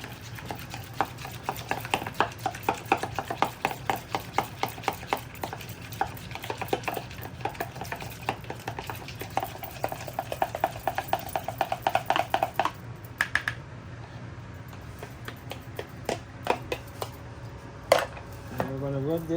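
Ratatouille vegetables being mixed together by hand and utensil in a bowl, giving a steady run of close, quick clicking and scraping strokes that thin out toward the end, with no talk.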